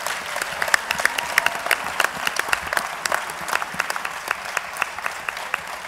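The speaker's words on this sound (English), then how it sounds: "Let us all give our panelists one more final round of applause." Steady applause from the audience at a panel discussion on low-income workers, a continuous wash of clapping hands at moderate loudness with no voices over it.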